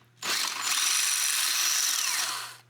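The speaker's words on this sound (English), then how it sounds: "I'm gonna get drilling some more holes, we'll get some more bulkheads installed" A power drill bores holes through the metal body of a turbocharged H22 Honda Civic during brake line work, one sharp onset followed by a steady, close, high-pitched whine for about two seconds, with no talking.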